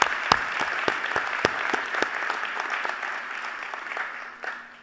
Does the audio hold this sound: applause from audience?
yes